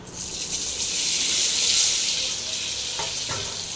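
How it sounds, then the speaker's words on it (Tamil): Amla (Indian gooseberry) pickle sautés over low heat in a pan, giving a steady close sizzle and hiss with a couple of faint stirring knocks near the end; no one speaks. "சிம்லேயே வச்சு நல்லா வதக்கிங்க அதிக தீ வைக்க தேவையில்லை"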